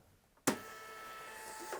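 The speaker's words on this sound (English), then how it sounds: "So I have a label printer. It's a Zebra." A Zebra thermal label printer starts up abruptly and runs with a steady mechanical whir while feeding a 4x6 shipping label, close and fairly loud, with no talking.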